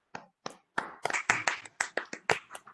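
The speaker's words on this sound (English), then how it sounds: "But I think a clap is good enough from all of us." A few people at an online meeting clap sparsely, about a dozen separate close claps and taps in an uneven rhythm, each short and distinct against near silence.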